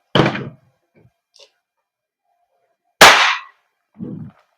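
A WE Glock 17 Gen 5 airsoft gas blowback pistol fires two sharp, loud cracks about three seconds apart, each with a short decay, followed by fainter clicks and a dull thump.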